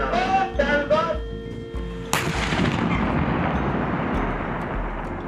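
A tank cannon fires during a NATO exercise in Poland: brief voices come first, then one loud, sharp blast that rolls into a long, rumbling decay.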